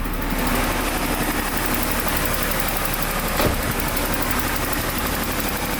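Car engine idling steadily after a faulty, stuck O2 sensor was replaced, a dense continuous engine hum heard up close with only slight swells in level and no talking.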